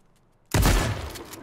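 A single sudden gunshot in the survival game Just Survive, cracking out of near silence and trailing off in a short echoing decay.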